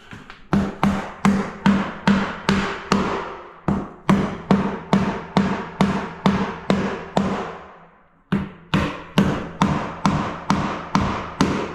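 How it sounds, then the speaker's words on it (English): A hammer drives nails through cement sheet into wooden flooring, a loud close series of sharp evenly spaced blows in two long runs separated by a brief pause. "So now I'm nailing it off."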